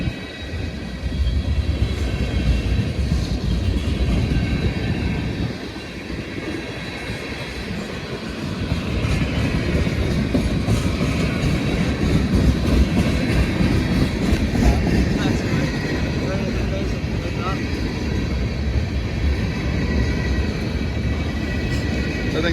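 A freight manifest train with many tank cars and hoppers rolls past close by, a loud, steady broadband rumble with clickety-clack of wheels that holds for over twenty seconds, dipping briefly in the middle.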